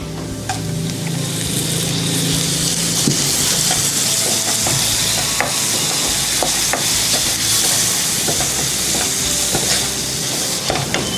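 Dried shrimp, cleaned of heads and shells, fries in a pan for a roast, giving a steady, close sizzle with scraping stir strokes throughout and no talk.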